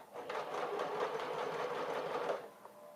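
A sewing machine runs steadily while stitching a princess seam on a garment, a close, continuous rapid whirring and clatter lasting a few seconds before slowing and stopping, with no talking.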